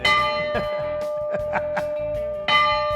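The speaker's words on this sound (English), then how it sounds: "I don't need to ring the train bell" A train bell clangs repeatedly in an uneven rhythm, each strike ringing out with a long metallic sustain, close and fairly loud.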